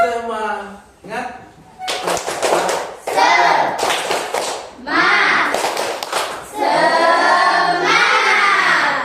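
A group does the 'tepuk semangat' clap chant, with rhythmic hand claps mixed with voices chanting in unison in a steady, lively pattern that is loud and close.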